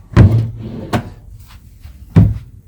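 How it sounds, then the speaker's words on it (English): Cabinet drawers in a cruise ship ocean-view balcony cabin on Odyssey of the Seas are slid and shut three times, each a loud close thud with a short sliding rattle, separated by brief pauses. "And you have more drawers here."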